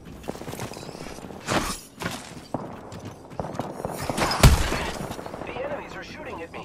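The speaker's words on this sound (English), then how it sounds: "The enemies are shooting at me." Bursts of enemy gunfire in Apex Legends, several sharp shot clusters with one loud close blast near the end, mixed with footsteps and a speaking voice throughout.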